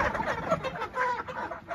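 Chickens cluck in a busy, close flurry inside a farm shed as they are being caught, short agitated calls overlapping without pause.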